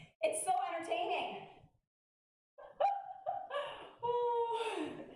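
Excited dogs outdoors give yipping barks and whimpering whines in two loud, close bursts separated by a brief silence.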